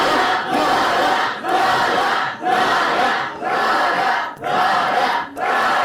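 A studio audience at a stand-up comedy show claps and cheers in sustained waves, loud and close, with brief dips between bursts and no talk over it.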